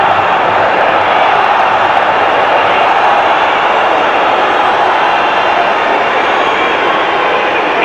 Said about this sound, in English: The Arsenal crowd enjoying what they're seeing here.